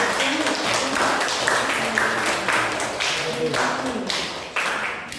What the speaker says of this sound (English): One more applause for Mr. Abi.